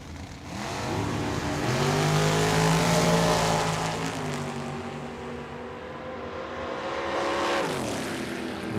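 At a drag strip, a racing wagon and a dragster make a loud, sustained engine roar down the track, the pitch climbing as they accelerate, then easing and swelling again as they pass.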